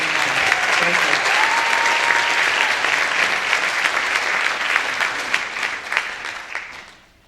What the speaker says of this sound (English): So one more round of applause for all of our St. Germain Award recipients